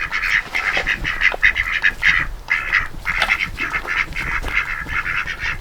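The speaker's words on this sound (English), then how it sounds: "Come on, ducks, you guys look hungry." A flock of hungry farm ducks quacks continuously at close range, overlapping calls in an uneven, chattering rhythm with brief pauses, loud and without talk.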